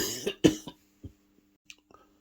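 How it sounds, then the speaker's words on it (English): A short fit of harsh coughs, three or four close together, followed by a few faint throat-clearing sounds and small noises in near silence. "Sorry, minor coughing fit."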